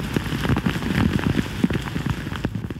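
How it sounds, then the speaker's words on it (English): Steady rain falls during a late-winter thaw before the 1996 Pittsburgh flood, a dense continuous patter of drops on surfaces, close and even throughout with no voices. "And then a steady rain."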